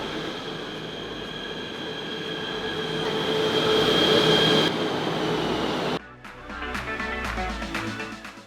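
A train running from Ipoh to Kuala Lumpur, heard with a loud steady rumble and high whine that swells, then cuts to rhythmic wheel clatter and rattling after a sudden shift, no voices.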